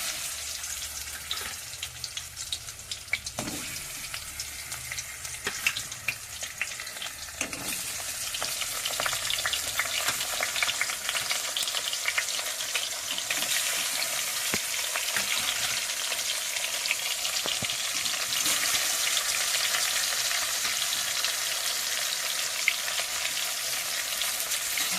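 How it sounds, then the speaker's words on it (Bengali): Pieces of katla fish fry in hot oil with a constant crackling sizzle that swells louder midway and holds steady, broken by a few scraping spatula knocks early on, with no talking. "মাছগুলো ভেজে নেব।"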